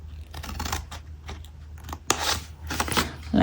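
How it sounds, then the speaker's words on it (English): Scissors snipping through cardstock while trimming a small shadow box frame, a series of short crisp cuts and paper crunches close up, with a faint low hum underneath. "Straight, diagonal, straight, and cut this entire chunk away"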